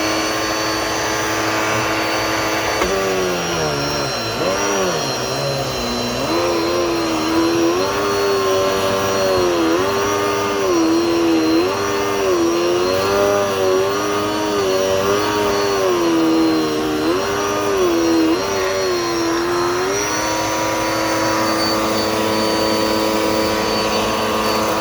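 A gray Dirt Devil multi-surface vacuum cleaner runs with a loud, steady whining roar. Its pitch wavers and dips repeatedly as wrappers are sucked up, then it settles back into a constant drone with no talk.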